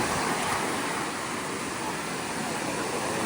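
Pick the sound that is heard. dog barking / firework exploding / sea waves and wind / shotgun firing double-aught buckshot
sea waves and wind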